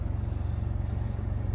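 A Jaguar XE 2.0d R-Sport diesel saloon with an automatic gearbox idles just after starting, a steady low, even engine rumble with a regular pulse, close by and alone.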